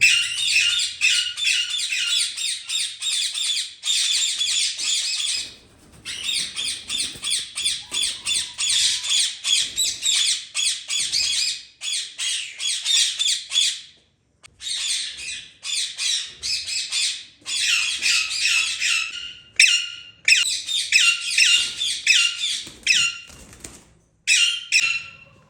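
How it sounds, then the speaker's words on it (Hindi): Breed parrots kept in a rooftop poultry setup squawk loudly and harshly in repeated bursts, close by, with short gaps of quiet between the noisy runs of calls. "ये सारे नस्ली तोते हैं।"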